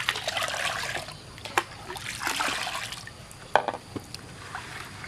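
Water being scooped and stirred with salt for a catfish spawning pond, making uneven trickling and sloshing bursts with a few sharp splashes, close and moderately loud, without speech.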